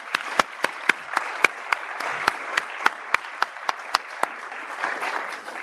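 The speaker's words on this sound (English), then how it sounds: "Let's give them another round of applause." A room applauds the 30 Under 30 honorees at a celebration, a moderate crowd clapping steadily with distinct, crisp single claps close by popping out at a regular pace above the softer mass.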